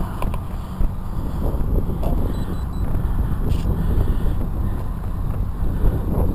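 A Cox Tee Dee .010 nano model engine runs without its spinner, giving a steady, loud, dense buzz that continues unbroken throughout.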